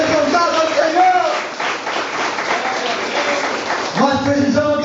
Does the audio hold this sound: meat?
no